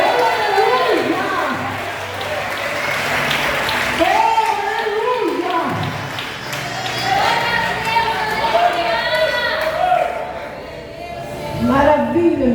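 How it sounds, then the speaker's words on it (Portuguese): Church congregation in a Brazilian Portuguese worship service applauding and cheering, a loud crowd roar with a voice shouting over it and rising again near the end. "Você pode aplaudir o Senhor Jesus por essa mensagem?"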